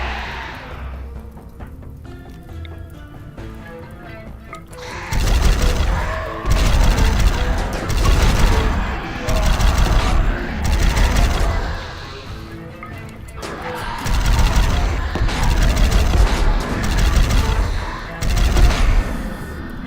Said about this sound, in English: Trying to not use up all the grenades on one person, you know?